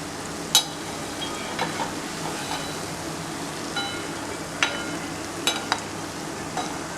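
Methi mathri, layered crisp spiced flour snacks, frying in hot oil with a steady soft sizzle throughout, marked by a few sharp clinks and scrapes of a utensil in the pan.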